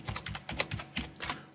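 A title is typed on a computer keyboard: a quick burst of about a dozen light, close key clicks in an uneven rhythm, with no voices.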